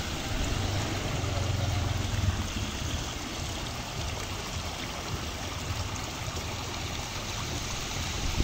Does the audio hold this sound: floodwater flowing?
yes